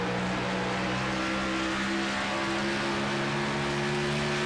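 Steady, loud engine drone with sustained harmonic tones from race cars in the iRacing video game at Rockingham, running close together at high revs, with no voices.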